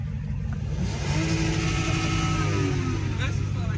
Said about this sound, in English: y'all want to hear the Hellcat right here?